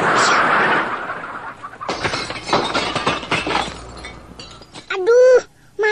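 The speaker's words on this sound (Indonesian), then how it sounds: "Ayam-ayam itu pada masuk ke dalam rumah." Chickens clucking and squawking inside a house, loud agitated cackles under a shattering clatter and scuffling, with a voice speaking in between.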